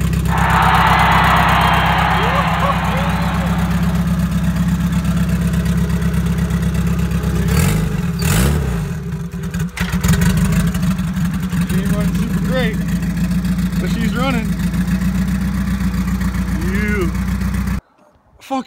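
A Honda CRX engine idling steadily after repair, loud and close with a rough mid-range drone and a brief rev, while excited voices talk over it throughout.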